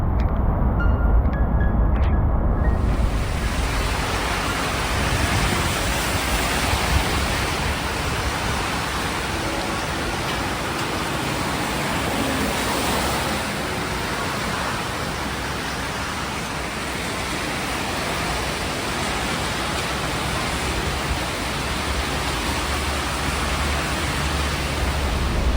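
Extreme rainstorm in Hong Kong under a black rain warning, a dense, constant roar of heavy rain pouring down close around, unbroken for the whole stretch with no voices.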